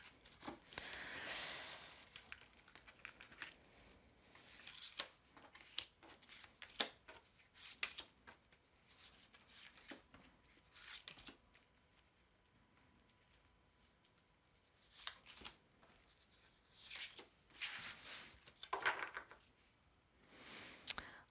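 Tarot cards being shuffled by hand at close range, with soft papery riffles and flicks coming in irregular bursts between quieter gaps, faint and alone with no talking.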